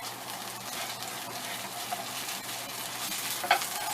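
Blackened tilapia frying in plenty of oil in a pan, a loud continuous crackling sizzle that holds steady throughout, with one brief clink near the end.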